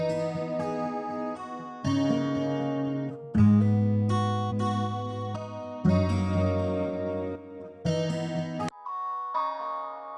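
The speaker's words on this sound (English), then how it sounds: "You hear how lush the delays are?" Electric guitar through an Eventide Anthology XII preset with lush delays, playing chords and picked notes that ring and overlap into sustained, layered echoes over about ten seconds, with no speech.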